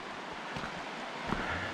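A river rushes beside a forest trail in the Pratt River area of the Alpine Lakes Wilderness near North Bend, a steady broadband wash of flowing water with a slight breezy quality and no talking.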